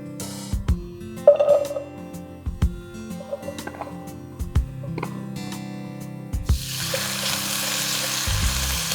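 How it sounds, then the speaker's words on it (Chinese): Onion and ham stir-fry in olive oil in a hot wok, sizzling steadily close up with metallic clanks and scrapes of stirring. The frying grows into a louder, hissing sizzle in the second half. "之前我们切好的洋葱和火腿，现在就是放到锅里面去煸炒一下。"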